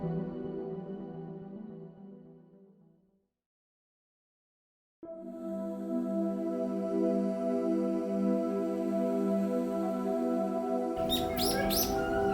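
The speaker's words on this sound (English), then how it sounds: "Nevertheless, birds are moving busy." Birds chirp and call around a frozen winter lake where ducks forage through ice and snow, a steady layered chorus that drops to silence midway before returning fuller, with sharp high calls near the end.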